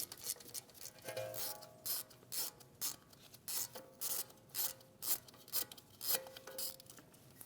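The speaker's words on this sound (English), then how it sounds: "Using a 5mm Allen, we're going to remove the bolt for the bracket." A 5mm Allen socket on a ratchet loosens the strut bracket bolt on a 2010-2015 BMW X1 xDrive during a front strut and spring replacement. A steady series of quick, close ratchet clicks repeats in a regular rhythm, quiet and with no talking.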